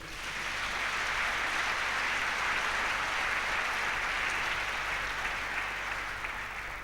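A church congregation applauds together in a dense, even wash of clapping that holds steady for several seconds with no pauses.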